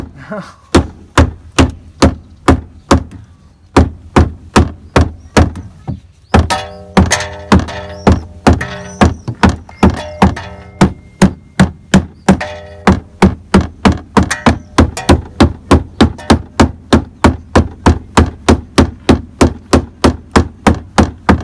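Hammer blows fold the leftover lip of a car's rear wing sheet metal over during a drift car build, a long run of sharp, close metallic thunks in a steady, fast rhythm with short pauses, and no talking.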